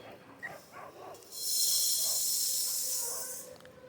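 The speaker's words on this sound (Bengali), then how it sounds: "সবগুলো মশলা আমি একসঙ্গে ভেজে নিচ্ছি" Whole spices, including dried red chillies and whole cardamom, frying in a hot wok for a sweet raw mango pickle, a steady loud sizzle rising suddenly and holding for about two seconds before easing.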